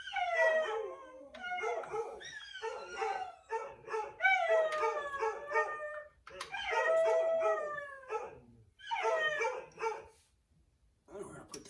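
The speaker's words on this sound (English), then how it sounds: "you can hear my dogs" Several dogs bark and howl in repeated bursts, with strained, wavering tones, loud and fairly close in a garage where a 1981 Suzuki GS550 motorcycle is being worked on, with short pauses between outbursts.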